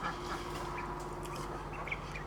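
Poultry birds on a homestead honk and quack in a loose chorus over a steady low background hum, with a few sharper calls standing out near the end.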